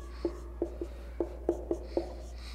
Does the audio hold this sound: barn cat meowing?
no